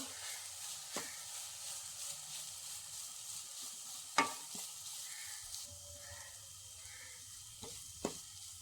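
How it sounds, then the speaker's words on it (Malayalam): Sliced banana and freshly grated coconut are stirred as they roast in a pan, giving a faint, steady sizzle with a few sharp spoon clicks against the pan. "ചുരണ്ടിയത് കൂടി ഇട്ടൊന്ന് ഇളക്കി കൊടുക്കാം"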